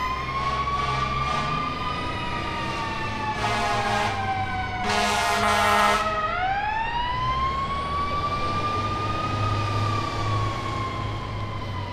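Fire truck siren wailing loudly as it passes from right to left, its rising and falling tone sweeping down and back up with a strong engine rumble beneath, continuous and close throughout.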